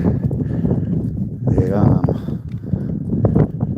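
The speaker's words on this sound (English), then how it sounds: "And we have some wild feral horses." Hooves clip-clop irregularly on the ground nearby as feral horses walk, with a low rumbling background and a brief whinny-like sound midway.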